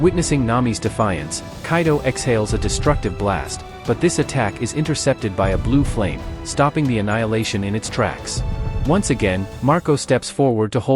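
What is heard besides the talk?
No distinct noise like a dog, phone or traffic.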